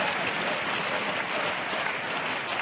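At the World Senior Karate Championships finals, a large arena crowd makes a continuous, even roar of applause and cheering that builds steadily and stays at a moderate level throughout.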